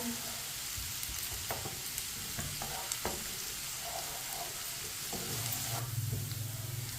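Onions browning in a pan, a steady sizzle with a spoon stirring and scraping at irregular moments, close and continuous.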